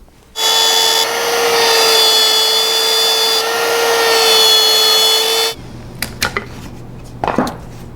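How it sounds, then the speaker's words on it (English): A power router cutting a recess into shop cabinet wood, a loud steady high whine for about five seconds that stops abruptly, followed by faint handling clicks and knocks. "take a router and route these out so I have a recess"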